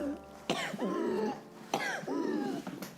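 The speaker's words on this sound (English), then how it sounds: "Excuse me, can you stop coughing?" Two harsh, close coughs in the video game The Bunker, a second apart, each a sudden burst trailing into a raspy throat sound.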